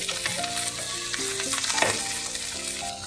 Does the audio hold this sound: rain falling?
no